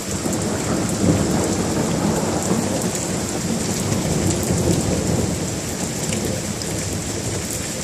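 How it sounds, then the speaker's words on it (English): Heavy rain pours steadily through a thunderstorm while thunder rumbles and cracks overhead. Dense, loud and continuous, with no voices. "there's hardly a break between the lightning and the thunder"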